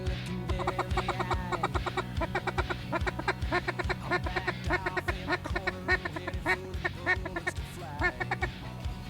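Mallard ducks quack repeatedly in a dense, rhythmic chorus throughout, close and loud, during a duck hunt in Washington State, with a faint voice in the background.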